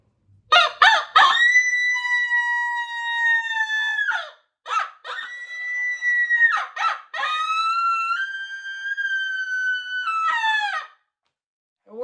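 A loud coyote howler call with a tubular end and several holes is blown in a series of long, wailing, pitch-sliding blasts broken by short yips, with no voices over it.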